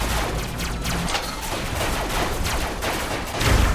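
Gunfire in the robot combat video game RoboCraft rattles on in rapid repeated bursts throughout, with a heavier thump at the end.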